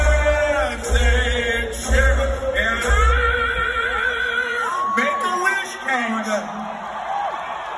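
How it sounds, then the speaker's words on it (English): A concert crowd reacts with loud shouts and drawn-out whoa-like cries, mixed with laughter and bursts of clapping and applause, close and busy throughout. "you hear some people in the crowd saying, whoa, whoa, but a lot of people laughing, clapping, applauding"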